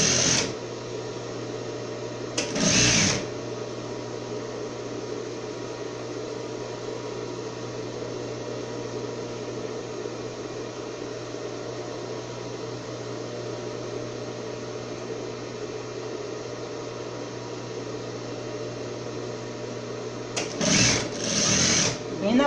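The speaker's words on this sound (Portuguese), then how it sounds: "Costura bem rente a borda do tecido aqui." A sewing machine runs steadily for a long stretch, stitching elastic close to the edge of a halter swimwear top, its even mechanical hum bracketed by brief bursts of talk at the start and end.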